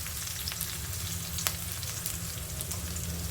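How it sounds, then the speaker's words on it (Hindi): Curry leaves, garlic and green chilies fry in hot oil in a kadhai, giving a steady close crackling sizzle with occasional sharper pops and no talking. "देखो अच्छे से कड़ी पत्ते फ्राई हुए हैं, और लहसुन और हरी मिर्ची डाल दी है"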